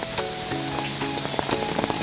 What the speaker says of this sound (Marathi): थोडासा पाऊस पडतो आहे